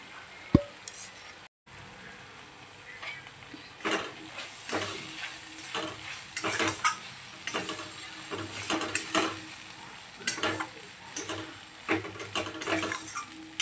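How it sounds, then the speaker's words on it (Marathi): Fried okra (bhindi) is tipped into a pan of hot oil and stirred, with a soft sizzle under repeated scraping and clinking of a spatula against the pan, close and steady. "आता यात आपल्याला फ्राय केलेली भेंडी ही फ्राय केलेली भेंडी आता आपल्याला त्यामध्ये ॲड करायची आहे."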